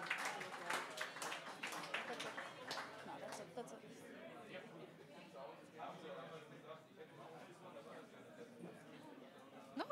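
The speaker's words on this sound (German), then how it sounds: "Großer Applaus nochmal für alle unsere Verlosungsgewinner." An audience at an Astronomy on Tap science night in Bonn gives a burst of clapping for raffle winners, the claps thinning after a few seconds into a steady hum of crowd chatter.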